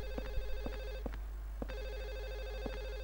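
A telephone rings repeatedly in the game Silent Hill 4 The Room, an electronic bell trilling in regular bursts over a steady low hum, with faint knocks between rings.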